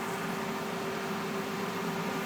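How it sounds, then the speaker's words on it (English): A fake meat burger sizzles in a frying pan, a steady, even hiss of frying fat that stays constant throughout, with no talking. "It's sizzling."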